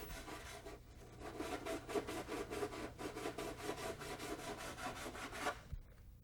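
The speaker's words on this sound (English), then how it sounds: "Remove the tape and deburr the slots with fine sandpaper." Fine sandpaper rubs back and forth to deburr cut slots, in a steady rhythmic scrubbing of quick strokes that is faint and close, with no talk.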